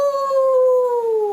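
A single sustained howl by a human voice imitating a dog, long and steady with a slight downward glide at the end, close and fairly loud with no other sounds.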